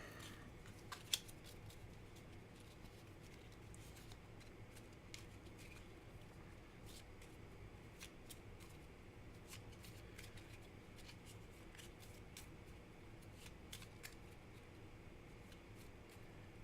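Cards from a Gloomhaven board game deck are shuffled quietly at a table, a faint steady riffling and patter with occasional light clicks, low in level and without talk.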